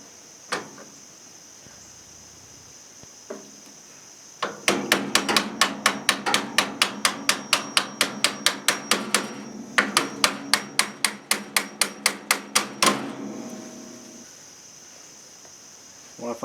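The top piece of an older MTD mower's wheel and axle assembly is struck in a quick run of about twenty sharp metallic hammer blows. They ring out close and loud in an even rhythm, with a few isolated taps before and after.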